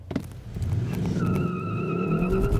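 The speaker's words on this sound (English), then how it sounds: "you get a little bit of that front wheel drive wheel spin" A 2021 Kia K5 GT with 290 horsepower launches hard with traction control off, its engine revving up in a rising, loud drone while the front tyres squeal briefly as they spin.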